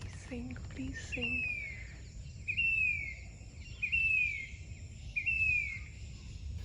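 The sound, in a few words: bird singing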